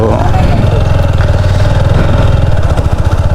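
A motorcycle carrying two riders rumbles along with a steady low engine drone and wind buffeting, loud and close throughout.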